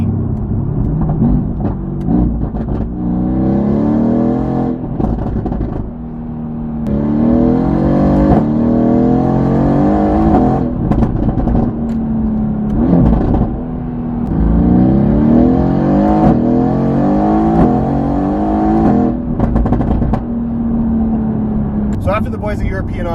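Mercedes AMG GTR fitted with an Fi exhaust system and downpipes, its engine revving hard in repeated rising surges that hold and drop back, loud and close throughout, with a voice over parts of it.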